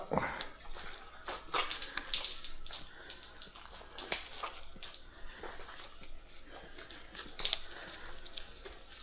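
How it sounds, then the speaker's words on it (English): A soaked deer cape is wrung out by hand, giving a run of irregular splashes, trickles and drips up close at a soft, fluctuating level with no talking. "Then we're going to wring it out."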